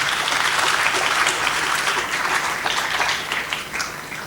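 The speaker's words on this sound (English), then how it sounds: "Can I ask you to give them another round of applause" A conference audience at the University of the South Pacific applauds its speakers, a dense, sustained round of clapping from many hands that fades slightly toward the end.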